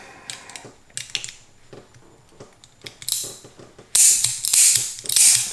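A revolver side plate, on a Smith and Wesson 686 or a Ruger GP100, is worked back into the frame with close metallic clicks, scrapes and taps, growing louder toward the end with bursts of bright rattling metal.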